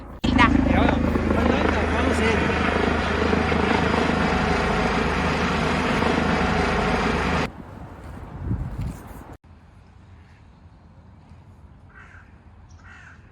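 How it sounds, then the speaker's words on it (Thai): Helicopter passing overhead on a walk along a stream flowing from the hills to the sea, a steady loud rotor and engine drone for about seven seconds with crow calls over it, then cutting away to quiet background. "คุณผู้ชมได้ยินเสียงเฮลิคอปเตอร์ไหมคะ"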